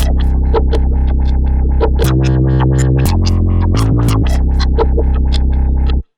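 A thick, buzzy synth bass riff plays continuously with changing notes over a rhythmic beat, loud and steady, ending abruptly.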